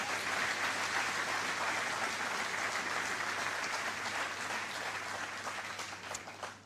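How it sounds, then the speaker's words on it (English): Audience applause at a ceremony launching a commemorative circulation $50 note in Grenada, a fairly faint, even patter of clapping from a seated crowd that holds steady and then tapers off toward the end. "Let's give Orlando a round of applause."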